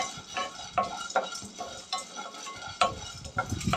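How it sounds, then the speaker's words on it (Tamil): Roasted gram (pottukadalai) dry-roasting in a pan on low flame, stirred with a utensil: a series of close scraping, rattling strokes at an uneven rhythm over a soft background. "லோ ஃப்ளேம்லேயே வச்சு கொஞ்சமாக வறுத்து எடுத்துக்கலாம்"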